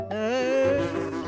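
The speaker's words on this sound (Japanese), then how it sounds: "うわあ、蜂だ。" A cartoon bee gives a steady, close buzz with a wavering, vibrato-like pitch, loud and continuous over music, with no speech.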